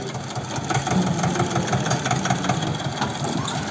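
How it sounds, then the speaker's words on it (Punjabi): A tractor engine chugs steadily at a medium pitch, laboring with a knocking rhythm as it climbs over a field ridge while ploughing, loud and close, without voices. "ਵੱਟ ਟੱਪ ਗਿਆ ਹੁਣ ਆਪਣਾ ਟਰੈਕਟਰ"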